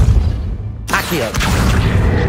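A spell cast in the PS5 game Hogwarts Legacy gives a sudden bright whooshing burst that cuts in over a low rumbling backdrop and then sustains as a dense, loud magical rush.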